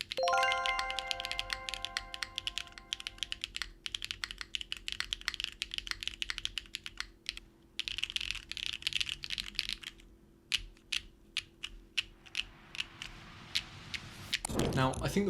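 A Neo70 mechanical keyboard fitted with Neo white switches is typed on steadily, giving dense, crisp clacks with brief pauses and a few isolated key presses near the end, heard alone and close.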